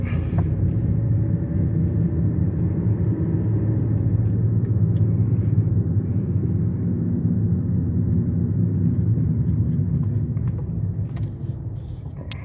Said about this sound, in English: the noisiest set of tires I've ever experienced